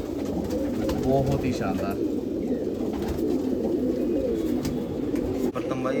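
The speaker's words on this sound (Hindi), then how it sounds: "बहुत ही प्यारा कबूतर है भाई ये" A pet pigeon coos steadily in low rolling phrases close by, while someone speaks briefly over it.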